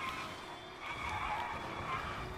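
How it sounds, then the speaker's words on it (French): Car tyres skid and squeal in the rally racing game V-Rally 4, a steady sustained screech with engine roar underneath, continuous and fairly loud throughout. "t'as entendu le bruit de tes pneus?"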